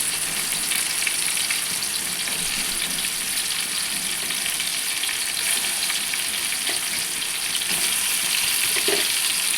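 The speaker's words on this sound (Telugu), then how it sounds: "టమాటాలు ఇలా మగ్గిన తర్వాత వంకాయలు వేసుకోండి" Brinjals fry in a pan with tomatoes and curry leaves, giving a loud, dense and steady sizzle that holds for nearly ten seconds, with a few faint clinks over it.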